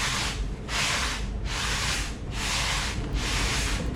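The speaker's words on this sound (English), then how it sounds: "I have some 80 grit, 120 grit sandpaper on a level" A guitar fretboard rubbed with 80 and 120 grit sandpaper on a level, making rhythmic back-and-forth rasping strokes, about five even passes, close and loud with no talk.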